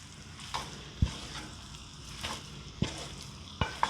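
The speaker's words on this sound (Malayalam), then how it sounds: "മസാലയും ചിക്കനും എല്ലാം നന്നായി ഒന്ന് മിക്സാകണം." Chicken and masala stirred in a clay pot, a soft sizzle with a few sharp scraping knocks of the spoon against the pot, spaced irregularly, close and moderately quiet.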